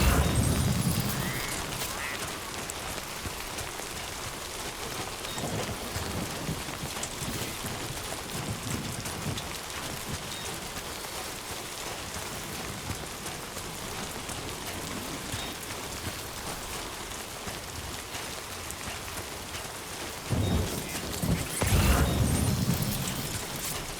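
Steady rain pattering on surfaces during timefall in the video game Death Stranding 2, a continuous wash of falling drops that swells louder near the end, with no talk.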